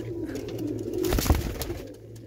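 A Bajra-colored domestic pigeon coos in a soft, low, throaty burst, close by and fairly quiet, with a faint rustle near the end and no voices.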